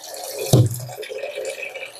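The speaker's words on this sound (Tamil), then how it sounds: "ஒரு 10 நிமிஷம் நம்ம இப்படி வடிகட்டி விட்டோம்னா தண்ணி அப்புறம் இறங்கிரும்." Soaked ration rice drains in a strainer, with a single sharp splash of water near the start followed by a soft, continuous trickle and faint dripping, close and quiet.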